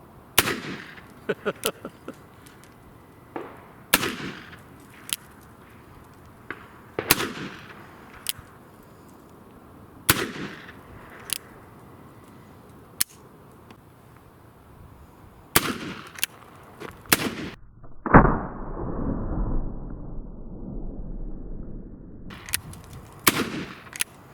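Several loud gunshots from an 1860 Army .44 black-powder revolver fired one-handed outdoors, sharp cracks spaced a few seconds apart with a longer ringing decay after one shot.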